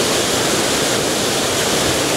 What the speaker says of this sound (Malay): Dekat dalam gua ni, dalam gunung ni boleh kata, ada air terjun yang cantik macam ni.